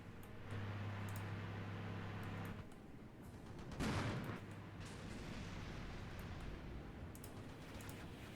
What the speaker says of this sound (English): Open fire over there.